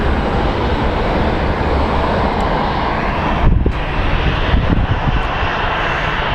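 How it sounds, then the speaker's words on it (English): An F-16 fighter jet flies near an airport, a constant loud engine roar filling the air with a couple of brief thumps midway. "Yep, F-16 showed up."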